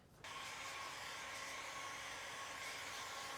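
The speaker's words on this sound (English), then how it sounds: "So where's my heat gun?" A heat gun blows steadily while wrap film is applied to a car, a continuous close, loud hiss-like roar that switches on abruptly and holds level throughout.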